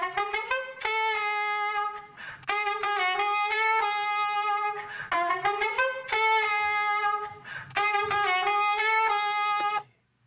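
A distorted saxophone sample plays melodic phrases in four bursts, rich in harmonics and loud throughout, with no voices over it.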